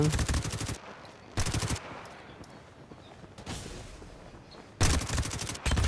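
Short bursts of automatic gunfire from a mobile team deathmatch shooter video game crack out loudly in three separate volleys, separated by quieter gaps of softer ambient game noise.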